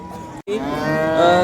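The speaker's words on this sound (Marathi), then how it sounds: "आता ही समोर गाय बघताय आपण" A cow at a cattle market in Modnimb lets out one long, loud, nearby moo after a short pause, with no voices.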